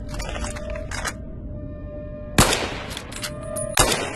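Sharp gunshots ring out in Fallout: New Vegas, a few spaced bursts at about 1, 2.4 and 3.8 seconds over a humming game background, without talk.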